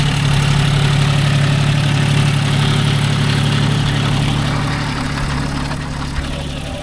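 A John Deere 5050D GearPro 4WD tractor engine runs steadily in a field with a 9-tine cultivator, a loud, close, even low drone that fades slightly toward the end, with no voices.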